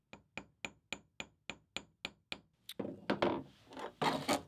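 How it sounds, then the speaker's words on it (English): Sterling silver pebble hammered flat on a steel bench block for a ring blank: about ten sharp, evenly spaced metallic strikes, close and loud, followed by louder, denser scraping and handling noise. "I've got it on a bench block here, and I'm going to make sure that I've found its most level side, and I'm going to hammer."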